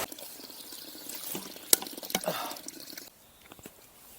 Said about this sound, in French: Joli petit torrent.